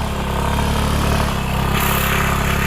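A motorcycle engine runs steadily and loud close by on a mountain trip, a continuous rumbling drone with a slight rise near the end.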